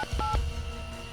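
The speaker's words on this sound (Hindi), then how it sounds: "मैं एसीपी साहब को फोन करके इन्फॉर्म करता हूँ" A telephone is dialed to call the ACP, with three short electronic keypad tones in quick succession, close and clear, followed by a faint steady hum.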